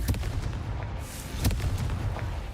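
A Confringo fire spell blasts in Hogwarts Legacy, with a couple of sharp, booming impacts over a heavy low rumble, loud and close.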